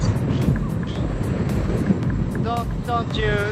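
Loud, rumbling wind buffeting a microphone while riding a Begode EXN electric unicycle, with brief faint chirpy tones near the end.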